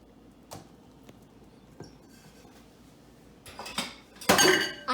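Cream cheese and softened butter are creamed together in a bowl, with scattered faint clinks and scrapes of a utensil against the dish that grow busier and louder toward the end.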